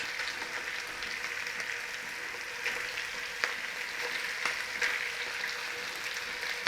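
Lumps of Cumberland sausage meat brown in a hot pan for biscuits and gravy, a steady close crackling sizzle with scattered sharper pops and no talking.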